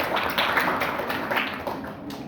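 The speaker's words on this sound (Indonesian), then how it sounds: "Tepuk tangan untuk semua." Applause for all the teams at a provincial Fahmil Qur'an quiz contest in South Kalimantan, a steady wash of many hands clapping that keeps going evenly throughout.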